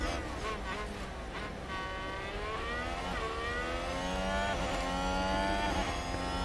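A Formula 1 car engine from the game F1 Manager 2022 during qualifying, one car's high whining engine note rising steadily through the gears and holding loud and continuous, with no talk.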